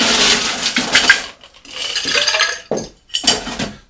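Ice cubes are scooped into a mixing glass for a Manhattan cocktail, loud close clattering and clinking in several quick bursts separated by short pauses.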